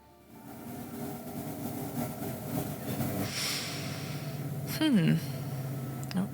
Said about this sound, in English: just wait for the train to go past